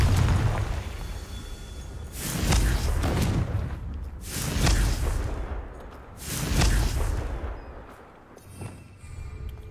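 Three loud blasting-spell explosions from the Confringo curse in the Hogwarts Legacy video game, each a broadband boom with a rumbling tail, spaced about two seconds apart over a steady ambient bed.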